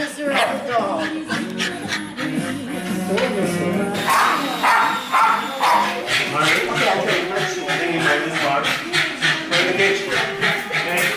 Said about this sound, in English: Miserable dog.